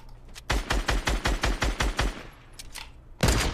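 Rapid automatic gunfire in a shooter video game, a steady rhythmic burst of about nine close, punchy shots, then a pause with faint clatter before another loud shot.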